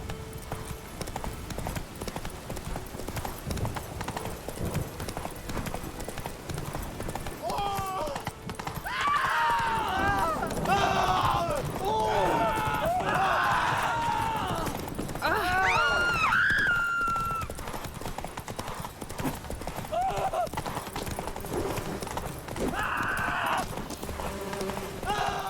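A horse's hooves clip-clop at a steady gallop in The Witcher 3, with a neigh partway through. A voice is heard briefly over the loud, continuous hoofbeats.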